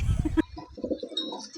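Pigeons at a pigeon house give soft, low cooing calls, close by, with a rustle or flutter at the start followed by several murmuring coos.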